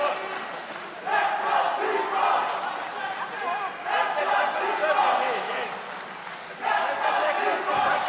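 Crowd at a Versus Fight Night cage fight chanting "Let's go T-Bone", a loud rhythmic massed chant that swells and repeats in waves, with a commentator's voice talking over it.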